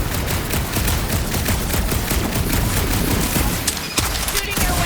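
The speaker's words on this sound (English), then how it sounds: "Shooting your way out of every problem again, Peter?" Gunfire in the Guardians of the Galaxy video game: a dense, loud fusillade of rapid shots pulsing steadily throughout, with a sharp blast near the end.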